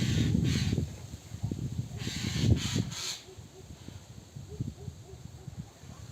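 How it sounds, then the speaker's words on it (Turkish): A crow caws outdoors in a vegetable garden where lettuce is being planted. It gives a few harsh, fairly loud calls in the first three seconds over soft rustling and low background noise. "Kuş nasıl ötüyor?"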